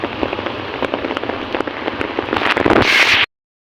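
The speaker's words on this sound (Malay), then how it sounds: "Hujan hari guys." Rain falling steadily, a dense close patter of drops on a surface that grows louder toward the end before cutting off.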